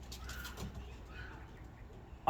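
Pigeon cock cooing from a breeding pen in a loft, soft low coos repeating at moderate distance over faint background noise, with a brief louder bump at the end.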